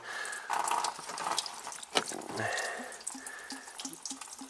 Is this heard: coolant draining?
yes